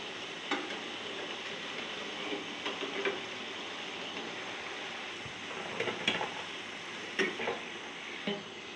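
Pakoras deep frying in hot oil, a steady close sizzle and bubbling throughout, with occasional sharper crackles and pops.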